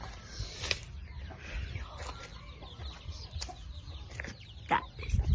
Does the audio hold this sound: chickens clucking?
yes